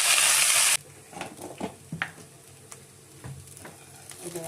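Soaked Gobindobhog rice with whole spices frying in a pan for white pulao, a loud burst of sizzle at the start that settles into quieter stirring and scraping with scattered taps.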